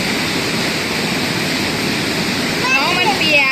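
A hailstorm at a garden house, heard as a loud, dense, steady roar of hail pouring down without a break, with a person talking briefly under the noise near the end.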